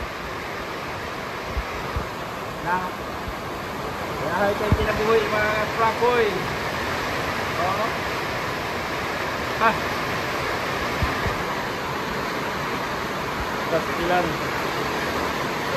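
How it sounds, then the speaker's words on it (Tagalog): Heavy rain from Typhoon Upong pours down in a constant, roaring hiss, with people talking briefly over the downpour. "Ang lakas ng ulan."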